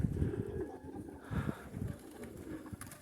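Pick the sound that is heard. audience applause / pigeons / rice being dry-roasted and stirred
pigeons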